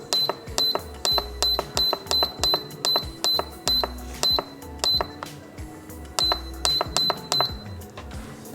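Sharp electronic beeps from button presses on an OPOS cooker while setting the timer, a rapid irregular series of short tones with mechanical clicks, close and loud.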